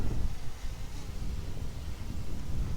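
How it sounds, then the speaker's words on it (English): A steady gust of wind buffets an outdoor microphone during a DJI Air 2S drone flight, a continuous loud rumbling roar with no talk. "That's a bit of a gust of wind, we'll pull it back a bit."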